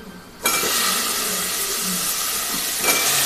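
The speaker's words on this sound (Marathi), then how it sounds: "आता मी ही वांग्याची पोळी याच्यामध्ये परतून घेणार आहे." Brinjal slices sauté in a hot pan for a spicy brinjal gravy, a loud steady sizzle that starts abruptly and hisses continuously, close and alone.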